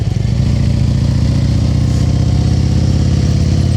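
A motorcycle engine during slow-speed riding practice in Pennsylvania gives a loud, close, steady low throb with slight revving fluctuations, running continuously without talk.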